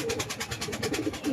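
Racing pigeon cooing in a steady repeated rhythm, several low soft coos close by, alone with no talk.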